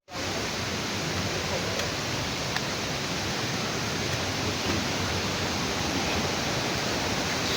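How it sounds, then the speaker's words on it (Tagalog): Palale Falls in Malinaw, Albay roars as a steady, dense rush of falling water, close and loud with no pause for the whole stretch. "At ito nga ang Palale Falls na matatagpuan dito sa Malinaw, Albay."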